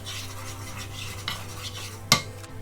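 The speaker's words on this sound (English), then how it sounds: "So I'm stirring this over a very low heat so that the curry will release its flavor inside the hot oil" Curry powder being stirred into hot oil in a pot over very low heat, a soft continuous scrape and faint sizzle with one sharp clink of the spoon against the metal near the end.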